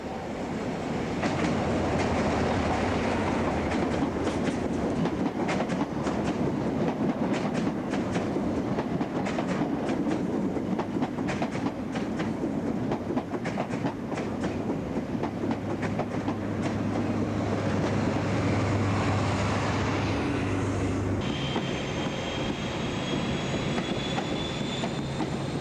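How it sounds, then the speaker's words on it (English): Trains pass in 1993 British rail footage: an up train pulls away as a down train arrives, with a dense clickety-clack of wheels over rail joints, a deep engine drone and a long wheel squeal toward the end, loud and near. "There's an up train leaving and a down train arriving."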